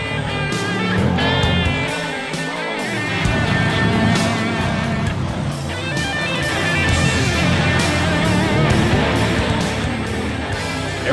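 A monster truck engine roars and revs in the racing game Rigs of Rods, loud and continuous, with the pitch climbing and dropping as the truck races.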